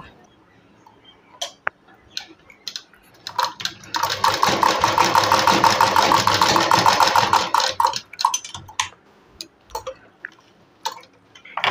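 A sewing machine stitches a sleeve in a steady, fast whirring run of about four seconds, framed by scattered clicks and handling taps before and after.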